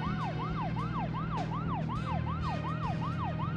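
Police car siren in the Deadly Premonition video game, a rapid, steady wailing sweep repeating about three times per second, loud and continuous over a low engine hum.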